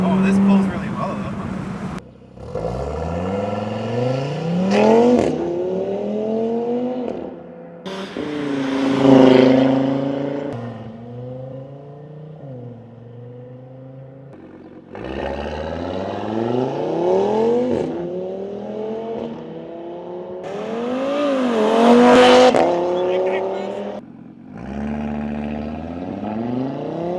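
An MBRP cat-back exhaust on an Audi droning from inside the cabin as the car pulls hard, the engine note sweeping upward through several gears with brief drops between shifts, loud and close, with some talk over it.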